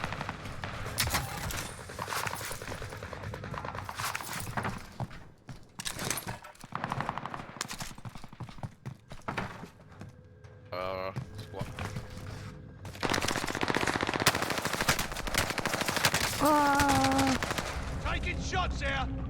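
Rapid automatic gunfire and scattered single shots crackle through a multiplayer shooter match in bursts of varying loudness, some near and some distant, with brief game tones and a player talking over the action.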